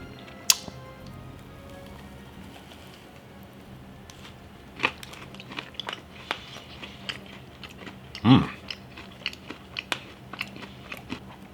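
A few sparse crunchy bites and quiet chewing on an apple cider muffin cookie with apple cider glaze and streusel, close to the mic, with one louder bite near the end.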